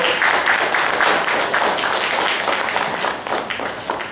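An audience at the inaugural function of a theatre festival applauds to welcome a guest to the stage, with dense, steady clapping throughout and a few voices underneath.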